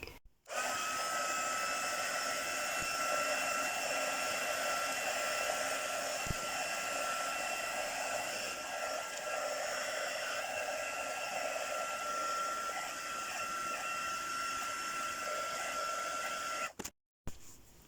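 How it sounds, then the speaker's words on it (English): A heat tool blows steadily to dry decoupage tissue paper, a constant whirring roar that runs nearly the whole time before cutting off near the end, close and loud with no talk. "I've plugged the heat tool in, and I will just quickly do that"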